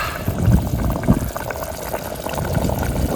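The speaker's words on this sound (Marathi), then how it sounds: "वरून आपण आता गरम पाणी टाकलेलं आहे" Hot water poured onto partly cooked chicken in an outdoor village camping pot, a steady liquid rush and splash running continuously at close range, moderately loud throughout.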